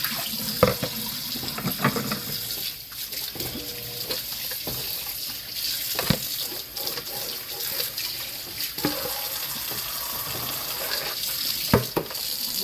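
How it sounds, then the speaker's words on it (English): Tap water running steadily over a pork roast in a kitchen sink, a constant close splashing hiss broken by occasional clunks and handling noises, with no talking. "so let's get to rinsing this pork off."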